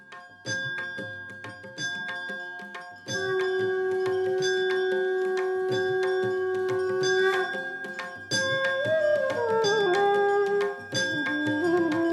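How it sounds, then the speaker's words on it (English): Temple bells rung during aarti at a Hindu temple: overlapping metallic rings and chimes sustain throughout, with a steady resonant tone and shifting pitches layered over busy devotional sound. "some volunteers can ring the bells also"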